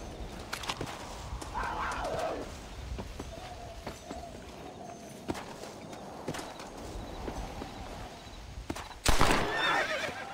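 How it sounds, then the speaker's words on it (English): A horse whinnies in a loud burst near the end, with scattered hoof clops and rustling earlier and a shorter neigh near the start, in a video game. "Come here, you stupid horse."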